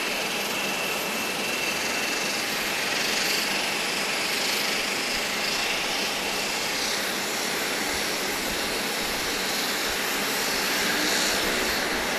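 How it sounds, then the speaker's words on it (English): Cayman Airways Express Saab 340 turboprop, Flight 4009, warming up its engines at Grand Cayman airport before departing for Cayman Brac; a steady, loud, continuous engine roar holds evenly throughout with no talk. "Cayman Airways Express Flight 4009 warming up to go back to Cayman Brac"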